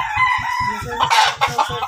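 A rooster at a Filipino gamecock sparring gathering crows loudly and close by, with clucking fowl and rhythmic low thumps underneath through the short stretch.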